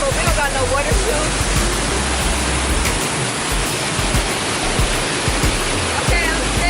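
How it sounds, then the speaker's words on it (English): A waterfall at the end of a hiking trail roars nearby in a dense, constant rush of falling water that fills the whole stretch at steady loudness. "We finally got to the waterfall"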